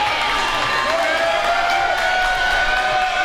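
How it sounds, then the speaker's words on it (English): Basketball crowd at Life University during an NABL championship game, a steady roar of cheering and applause filling the arena continuously, loud and dense with a few whistle-like tones. "The crowd has come alive here at Life University"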